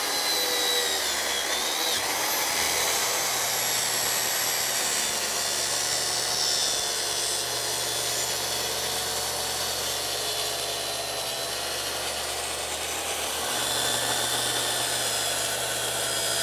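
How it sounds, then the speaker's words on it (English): A power saw rips lengthwise through rough-edged lumber on a shop tool bench, a steady loud whine holding for most of the run with a slight dip near the end as the blade clears the board and winds down. "I'll make this rip cut"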